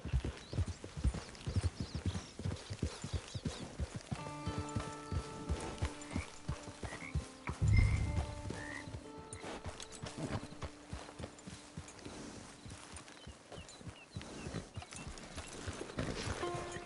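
Horse hooves clip-clopping in a PS4 video game, a steady close rhythmic trot over soft ambient music with a brief whinny midway.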